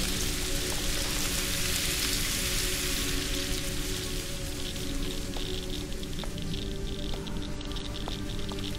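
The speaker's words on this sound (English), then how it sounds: "Has some nice rain effects with sound." Rain effects in the horror video game AMY, a dense, steady hiss of rainfall with spattering drops, loud and continuous throughout with no voices.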